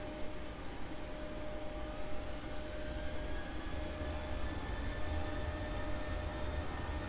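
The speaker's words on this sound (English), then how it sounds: "Listen to that engine noise." A Westjet Boeing 737-700 in a flight simulator game spools up for takeoff from Calgary, producing a steady broad engine roar with faint rising whining tones, constant and fairly quiet.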